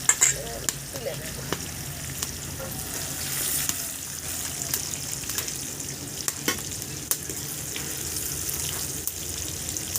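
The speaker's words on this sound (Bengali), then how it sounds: "আলু আর কুমড়োটা কিন্তু দেখুন একেবারে লাল লাল করে ভেজে নিয়েছি" Potato and pumpkin pieces fry in hot oil with a steady, soft sizzle, broken by scattered clicks and scrapes of stirring close by; no one talks.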